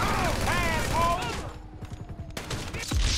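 Gunfire in the video game GTA V: a dense rattle of shots, with a voice speaking over the first half and a sharp final burst near the end.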